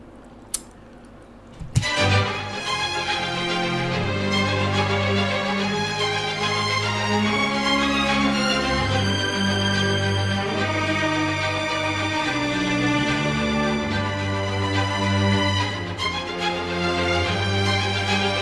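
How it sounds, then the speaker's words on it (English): An orchestral string section plays a dark section of the Justice League theme, with sustained, loud layered strings entering after a brief quiet start and a sharp hit, then continuing alone. "that on strings sounds like this."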